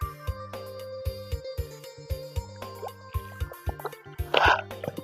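Freshly caught small shrimp washed in water, with soft drips, plops and squishy splashes coming in irregular bursts, close and fairly quiet, alongside a faint tonal background.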